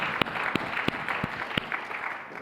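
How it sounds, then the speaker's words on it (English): An audience at a planetary science storytelling talk claps in a short round of applause, a steady wash of hand claps punctuated by a few sharp, louder individual claps near the front. "Give yourselves a round of applause."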